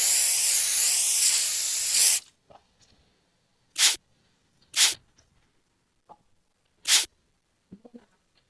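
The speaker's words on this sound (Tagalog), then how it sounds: "So, spray na rin natin yung switch natin dito." Mars contact cleaner sprayed onto a car's hazard switch: one loud, close hiss lasting about two seconds, followed by three short separate bursts with quiet gaps and small handling clicks between them.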